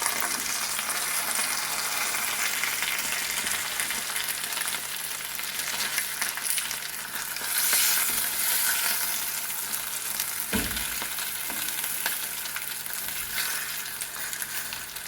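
Pearl spot fish fries in oil over a low to medium flame, a dense, continuous sizzle and crackle heard close up for the whole stretch, with one brief knock partway through and no voices.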